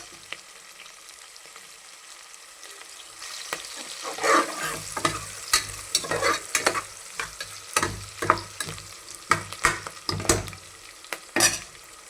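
Onions frying in a pan for a Telangana-style boti curry, stirred repeatedly as they turn golden brown: a steady background sizzle, then a run of scraping spoon strokes in an irregular rhythm, close and fairly loud, with no talk.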